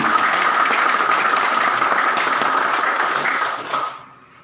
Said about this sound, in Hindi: एक बार ताली बजा लें अपने आप की।